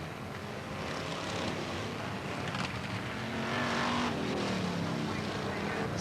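BriSCA F1 stock cars racing on the Northampton oval in 1987, a dense roar of engines swelling as cars pass on the straight, with a commentator talking over the continuous loud racket.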